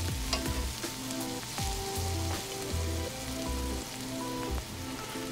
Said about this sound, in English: we're gonna add a little bit more butter just to keep some fat and moisture in the pan